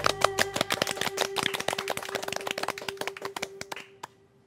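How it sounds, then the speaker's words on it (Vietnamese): A group claps hands in applause during a karaoke performance, producing a dense, steady patter of close claps over a held musical tone that thins out and stops near the end. "Vỗ tay."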